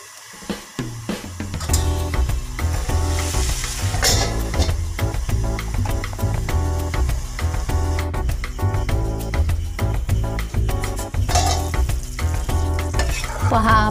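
Mixed vegetables with potato are stirred in a pan, a steady sizzle running underneath with repeated scraping strokes against the pan, close and loud throughout.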